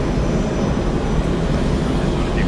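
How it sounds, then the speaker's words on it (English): Airbus A350 airliner taxiing at Atlanta Hartsfield-Jackson International Airport, a steady broadband engine rumble and roar, fairly loud and constant, with no distinct changes and no talk over it. "The Airbus A350 now on the move."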